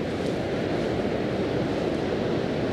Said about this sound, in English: look at the size of these waves as they're coming in here